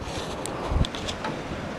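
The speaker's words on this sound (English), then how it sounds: "I apologize for all the wind noise, and of course there's some wave noise too from the rocks" Wind buffets the microphone on the rocky Lubec, Maine coast near Quoddy Head Light, a steady roaring rumble, with the wash of waves against the rocks underneath.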